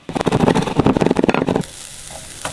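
A short burst of crackling, spitting fat from bacon frying in a pan, which cuts off abruptly after a second and a half.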